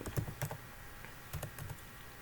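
A computer keyboard being typed on to enter a network switch command, a few short bursts of quick, crisp key clicks with pauses between, close and fairly quiet, with no talking.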